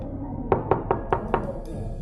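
Knuckles rapping on a room door: five crisp, evenly spaced knocks, close and moderately loud, followed by quiet.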